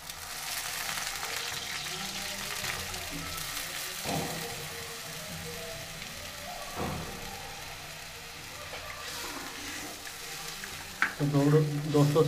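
Buttermilk poured into a hot pan of vegetables and stirred, a steady sizzle with a few scraping spoon strokes and a burst of clatter near the end, with faint talking.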